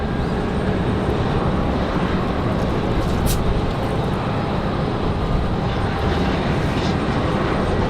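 A Copa airliner arrives at Raleigh-Durham airport on a windy day, its engine roar a steady, broad rumble that holds evenly throughout, with no one speaking.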